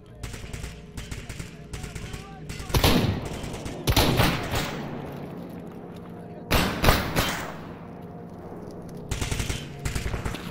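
Covering gunfire in a first-person shooter, with bursts of rapid machine-gun fire and sharp single shots arriving in several loud clusters separated by quieter gaps of background game noise.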